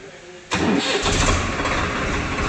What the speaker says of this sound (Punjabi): ਦੇਖਿਓ ਆਵਾਜ਼ ਸੁਣਿਓ ਟਰੈਕਟਰ ਦੀ